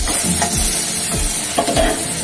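Banana flower and potatoes fry in oil in a pan for a prawn and banana flower curry, a steady close sizzle broken by about three scraping stirs of the spatula, with no voices.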